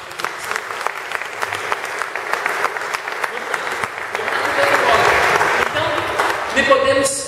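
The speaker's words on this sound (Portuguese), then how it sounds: "Vamos dar uma salva de palmas para essa palavra?" A congregation applauds at a church gathering, the clapping building into a loud sustained round before a voice cuts in near the end.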